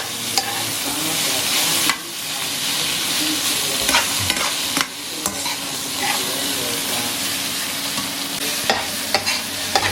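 Sambal with galangal frying in oil and being stirred in a pan, a steady close sizzle with scraping stirs and occasional sharper clatters of the spatula throughout.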